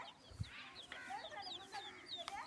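A rooster gives a few soft, scattered clucks, faint and somewhat distant, over quiet background noise.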